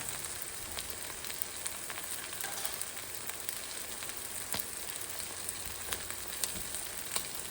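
An egg fries in a pan for garlic fried rice, giving a steady close hiss of sizzling oil with scattered tiny pops and crackles and no voices.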